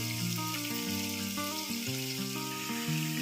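Tomatoes fry in a pan for chicken curry with a steady, bright sizzle that runs throughout, partly masked by louder melodic background music.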